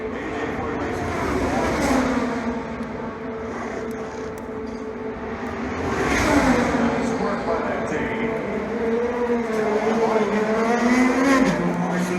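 Race cars roaring at the start of the Indianapolis 500, a loud, sustained engine drone with rising and falling pitch as the field accelerates, heard from the crowd with a dense wash of noise throughout.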